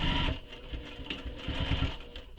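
A sewing machine back stitches through a shoulder bag, its motor whirring in short, steady bursts that pause and restart at close range with no talking.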